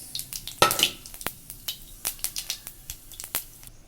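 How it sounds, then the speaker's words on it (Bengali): Cumin seeds and dried red chillies sizzling in hot oil, sharp popping crackles bursting irregularly over a low frying hiss, close and lively with no voice over it. "তেলের ভিতরে আমি জিরে আর শুকনো লঙ্কা ফোড়ন দিলাম"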